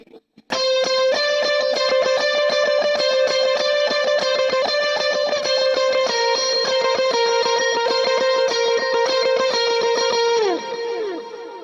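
Electric lead guitar with a warbly bubble-vibrato modulation and two delays, ringing sustained notes in a continuous line that fades in the final second.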